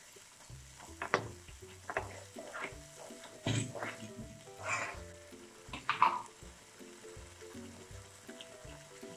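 Masala frying in oil with curd (yogurt) being added, giving soft sizzling and irregular stirring scrapes and clatters of a spoon in the pan, close and fairly quiet, with no talk.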